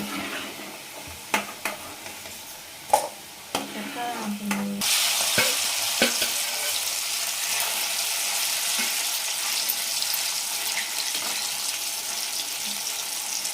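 Pieces for an amaranth-leaf liver fry sizzle steadily in a pan, with a few clinks of stirring early on before a continuous, fairly loud frying hiss takes over.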